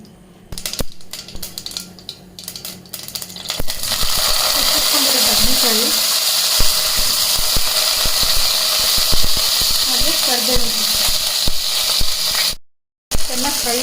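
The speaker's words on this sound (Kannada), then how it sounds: "ಈ ಬದನೆಕಾಯಿ ಎಲ್ಲ ಫ್ರೈ ಆಗ್ತಾ ಇರಲಿ" Eggplant pieces frying with mustard seeds in a pan give off a loud, steady sizzling hiss that starts after a few seconds of clatter and runs on continuously while someone talks over it.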